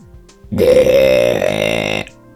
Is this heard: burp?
yes